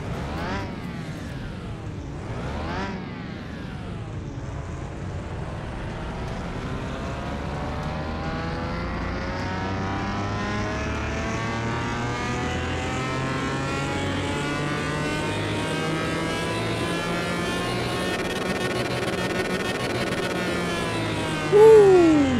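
A barn-find Lamborghini with a 456-horsepower base engine starts up in Car Mechanic Simulator 2021, then revs in a long, steadily rising sweep that holds loud and continuous, ending with a brief sharper burst.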